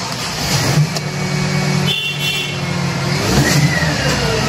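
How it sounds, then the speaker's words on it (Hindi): A sports car engine growls and revs steadily close by in Kolkata, a loud throaty exhaust rumbling with brief rises in pitch. "इसका एग्जॉस्ट बस आप सुन सकते हैं क्या, मतलब क्या जबरदस्त एग्जॉस्ट है इसका।"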